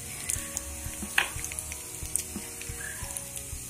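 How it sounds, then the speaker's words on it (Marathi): Mustard seeds and cumin crackle in hot oil for a ridge gourd dish, with a quiet, close sizzle under scattered sharp pops. "तेल थोडं तापल्यानंतर त्यामध्ये मोहरी व जिरे घालूयात। जिरे व मोहरीला थोडं तडका आल्यानंतर"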